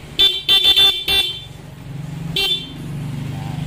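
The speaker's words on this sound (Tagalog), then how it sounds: "Sige, busina mo." Several short, sharp horn beeps in quick succession from a Yamaha Mio i 125 scooter, then one more toot, over a low idling engine rumble.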